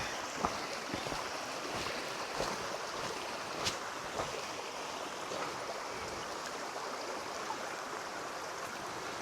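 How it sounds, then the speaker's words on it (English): A stream on Skiathos rushes in a steady broadband wash, close and fairly quiet, with a few faint splashes and ticks above the continuous flow. "Looks like we're going to be crossing the river again"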